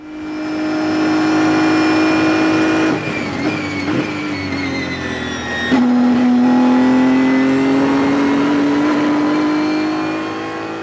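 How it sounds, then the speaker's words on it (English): Race car on the Road America circuit accelerating hard out of a corner after heavy braking, its engine a loud, close, sustained roar climbing in pitch through a gear change midway. "and then we're going to pick the throttle up when we get there."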